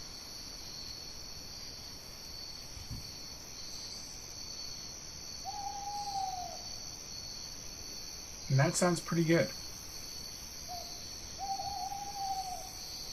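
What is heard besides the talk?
owl hooting with night ambience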